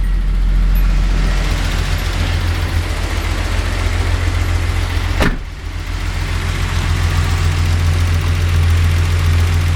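A 1982 Datsun 280ZX with a ceramic-coated header and straight exhaust idles steadily and loudly up close, a deep continuous rumble with one brief sharp knock midway.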